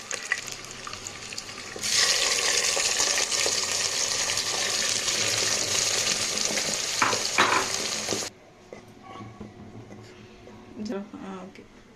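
Spices spluttering and frying in hot oil in a pan for a Madras-style fish curry, a loud steady sizzle with crackles that cuts off abruptly, leaving quieter kitchen clatter and a voice speaking.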